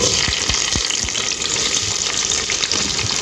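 Onions sizzle and crackle in hot oil for a mutton gravy, a dense steady frying hiss with occasional stirring scrapes, close and continuous.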